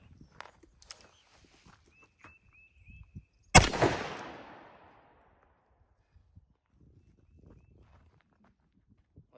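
A single loud .357 Magnum gunshot from a Colt Python revolver fired at Level III+ body armor, a sharp close blast followed by a decaying echo, with faint shuffling and handling noises before and after.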